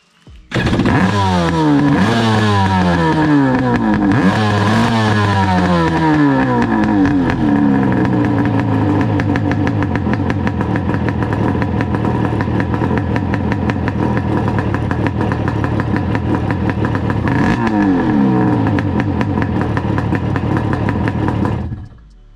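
ROB ski engine running after a stator and starter repair, loud and close, revving up and down several times at first before settling into a steady rough idle that continues to the end.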